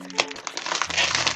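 Plastic packaging being opened by hand without scissors, with close crinkling and crumpling over a second or so.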